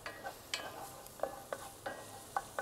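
Finely chopped garlic cloves warming in a pan, with a faint sizzle and a regular series of soft stirring scrapes and taps, close and quiet.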